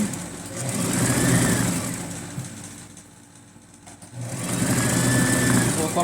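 An electric sewing machine stitches a fabric chair cover, whirring in two sustained runs that swell and fade with a short quieter pause between them, close and steady.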